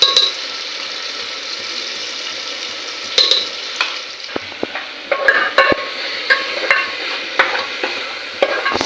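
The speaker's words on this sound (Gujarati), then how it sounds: "બેન અમારા શાક વઘારે છે." Eggplant and potato curry being tempered and stirred in a pan: a steady sizzling hiss with irregular scraping and clinking strokes of a spatula that grow busier toward the end, close and clear.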